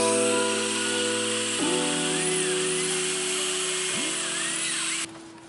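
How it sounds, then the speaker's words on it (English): A power drill whines steadily at close range drilling holes in a car bumper, its pitch dropping and rising as it bites into material, then cuts off abruptly near the end. "we're going to drill a couple holes now, okay, on each side to hold it good"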